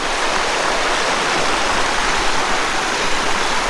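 A river at a crossing point rushes steadily with a close, continuous broadband wash of flowing water, unbroken and with no talking.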